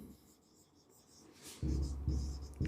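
A marker or chalk scratches on a board during a physics lecture on magnetic fields. Quiet rubbing strokes build into several louder, distinct scrapes near the end.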